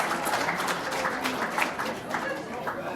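Audience applause and clapping for a contestant finishing a three-minute pressure challenge, a steady dense patter of hands under crowd chatter, fairly close and sustained throughout.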